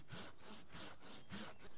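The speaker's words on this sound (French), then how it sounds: "pour finir la coupe, je vais utiliser le bout de ma scie qui a des dents plus fines" A pruning saw cuts through a tree branch near the sap-drawing shoot, giving steady rhythmic rasping strokes back and forth, faint and close, with no talking.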